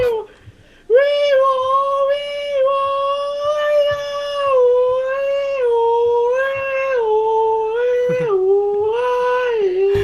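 A voice imitates a Siren Head monster's howl from Minecraft: one long, loud, wavering wail that rises and dips for several seconds after a short quiet start.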